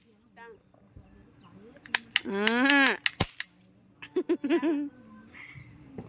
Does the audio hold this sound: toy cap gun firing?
yes